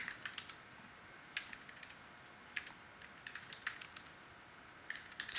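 Bursts of keystrokes on a computer keyboard as a document title is typed, quick irregular clicks in several short runs separated by pauses, close and moderately quiet.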